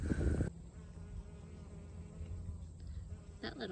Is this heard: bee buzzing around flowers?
yes